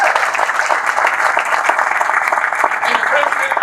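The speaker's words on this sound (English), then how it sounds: "Give them a round of applause." A crowd applauds steadily and loudly for parents at an Army event at Fort Bliss, with dense clapping throughout and a few voices mixed in.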